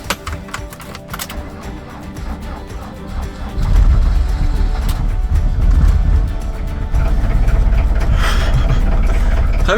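A Fiat Ducato campervan engine cranks and catches partway through, then settles into a loud, close, rumbling idle after some faint clicking and handling noises at the start.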